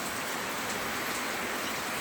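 Steady rain pours down outdoors during an Independence Day flag display, a dense, even hiss that holds at one level for the whole stretch with no voices over it.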